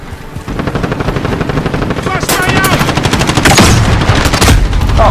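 Sentry gun in a Call of Duty multiplayer match firing rapid, continuous bursts of automatic gunfire, loud and dense with a rumbling game soundscape underneath and occasional voice sounds mixed in.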